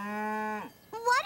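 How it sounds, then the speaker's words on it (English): Two cows moo on a farm, one long steady low moo followed after a short pause by a second rising, wavering moo, both loud and close with no talk over them. "What are the cows saying?"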